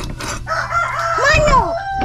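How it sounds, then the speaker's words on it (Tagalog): A rooster crows once, loud and close, in a rising then falling call with a few clucks and brief background chatter in a rural home. "Manok."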